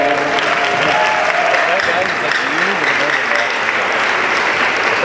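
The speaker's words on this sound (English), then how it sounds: "Let's give them a clap of hands." A conference audience at the 2017 MSA West Conference applauds its organizers, sustained dense clapping from a large crowd filling the hall, with voices faintly underneath.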